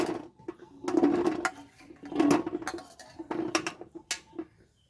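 Indian gooseberries (amla) being set one after another onto a metal plate resting in a cooking pot for steaming, for amla pickle; a series of close, clattering metallic knocks in irregular bursts, with no talking.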